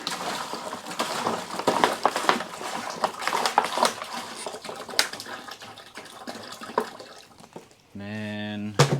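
Water is poured from a gallon jug into the coolant filler of a Chevy car, a continuous splashing gurgle that runs for several seconds, with a brief bleat-like tone near the end.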